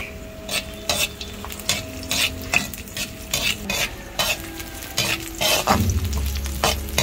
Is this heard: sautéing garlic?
yes